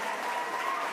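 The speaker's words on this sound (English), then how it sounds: "Give them a round of applause." Steady, dense applause from an audience greeting the judges at a show choir prelims competition in Orlando, filling a full second without pause.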